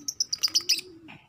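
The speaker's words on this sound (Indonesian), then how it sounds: "Kita mulai menempatkan burung-burung keluarga perot ini di spesies lovebird, burung cinta." Lovebirds, small parrots kept in a bird laboratory, give a quick run of bright, sharp chirps close by, then a softer lower call at the end, with no talking.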